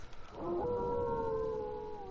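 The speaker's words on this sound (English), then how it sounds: "I like these slightly unenthusiastic dogs." Dogs howl in the Super Castlevania IV video game, long sustained wavering tones that rise in after a brief pause and hold steadily to the end, with no talk over them.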